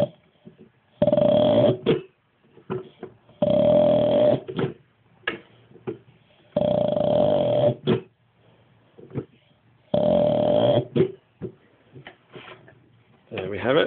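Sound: vacuum pump running

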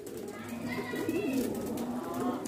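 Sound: Zahid Bhai's pigeons cooing

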